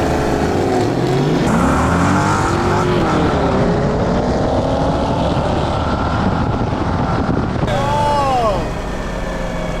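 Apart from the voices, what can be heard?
nitrous Mercedes Benz spinning its tires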